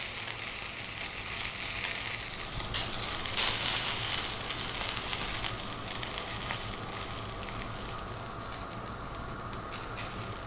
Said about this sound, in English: I'm going to hold this up here for a minute or two, just to render out that fat on the side there